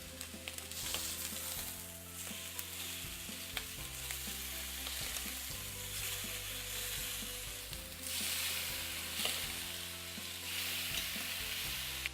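Sirloin steak frying in a pan on its second side, crackling and sizzling steadily close by with a constant hiss and occasional louder spits, no voices.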